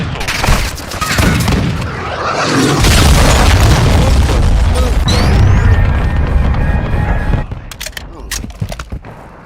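Heavy explosion and crashing impacts from a cruise missile strike in Call of Duty: Modern Warfare 2, a loud sustained blast rumbling for several seconds over scattered gunfire, then fading into sharper shots and game chatter.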